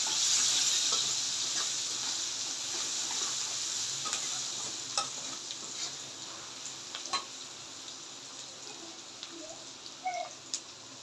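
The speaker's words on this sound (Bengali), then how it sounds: "আর দিয়ে দিব যেখানে পেঁয়াজ কেটে রাখছি সেগুলো জিরাটা একটু পুড়ে নিই" Cumin seeds and chopped onions frying in a pan, a soft, continuous sizzle and hiss with scattered light stirring clicks, quiet and close with no voices.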